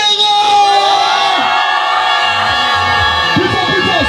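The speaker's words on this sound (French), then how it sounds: "Je vais entendre la famille de Daniel crier bien fort." A crowd of wedding guests at a religious wedding ceremony shouts and cheers loudly after a countdown, a dense, sustained roar of many voices with children's yells mixed in.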